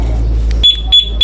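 A Suzuki Access motorcycle's anti-theft alarm gives its remote answer-back: after a low rumble, three short, sharp high-pitched beeps sound in quick succession, loud and close.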